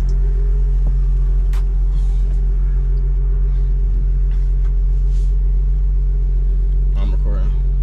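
An Infiniti G35 coupe with a JDM engine runs at a steady idle, a loud, deep, even drone held throughout, with brief faint voices over it.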